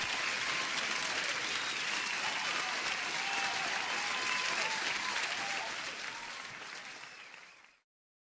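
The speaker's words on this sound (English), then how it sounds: "Let me give you an applause." A canned applause sound effect plays on a livestream: dense, even clapping and crowd noise that holds steady, then fades out smoothly at the end.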